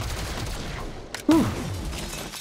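A single sharp gunshot cracks out from the Sure Shot ability in XCOM: Chimera Squad, a brief loud report with a short ringing tail over a low game background.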